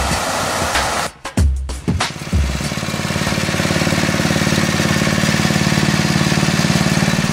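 Small lawn mower engine running steadily while grass is cut, a close, continuous drone with a rhythmic pulse, preceded by a few brief bumps and dropouts near the start.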